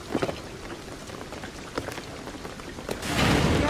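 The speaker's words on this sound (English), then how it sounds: "the rain is gonna flood the beach" Steady rain patters and hisses on surfaces in Shadow of the Tomb Raider, with a few sharper drops and a swell of heavier downpour at the end, and no voices.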